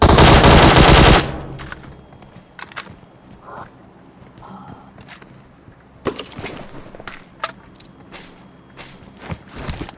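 Loud burst of automatic gunfire in the mobile battle royale game PUBG Mobile, opening the clip, followed by quieter scattered shots, footsteps and clatter.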